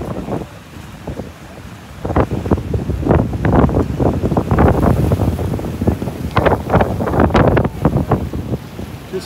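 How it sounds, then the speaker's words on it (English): Strong gusts from the Hurricane Milton storm batter a microphone on the coast near flooded streets, roaring in loud, irregular bursts that swell and buffet continuously, with water and surge noise beneath. "Woo, it's windy."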